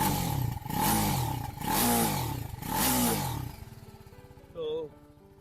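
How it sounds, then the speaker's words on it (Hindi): A BMW G 310 RR single-cylinder motorcycle revs in three loud rising and falling bursts close by, then settles to a steady idle, with a faint voice briefly over the end. "मैं आपको सबसे पहले एग्जॉस्ट नोट सुना देता हूँ इस बाइक का।"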